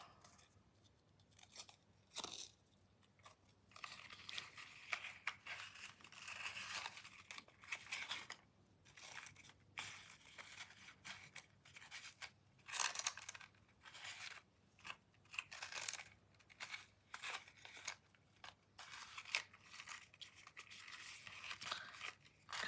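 Scissors snip and crunch through ribbon during a card-making session, quiet, irregular cuts with crinkling and handling noises between them.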